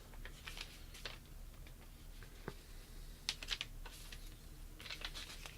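Someone types on a Silvercrest gaming keyboard, producing faint, irregular key clicks in short bursts against a quiet background.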